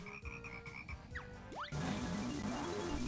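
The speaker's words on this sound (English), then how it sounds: "Now we're about to fight some yellow frogs" Yellow frogs croak in a swamp video game, rhythmic tonal croaks first, then a few rising chirps, and a dense, loud croaking chorus takes over for the last half.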